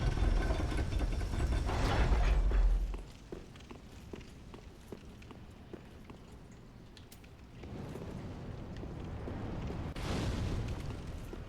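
Fire being shot and exploding in the video game Dark Souls 3: a heavy, rumbling low boom dominates the opening seconds, followed by quieter scattered impacts and thuds, then a second, softer rumbling swell.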